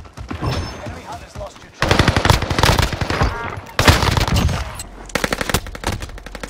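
Rapid automatic gunfire in the Call of Duty Warzone video game on Rebirth Island, loud close bursts separated by brief pauses, with speech mixed in.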